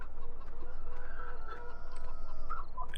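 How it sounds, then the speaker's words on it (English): Several video game chickens cluck and murmur nearby over a low steady hum, their short calls overlapping in an uneven rhythm. "go and wake the chickens up, get the eggs off them"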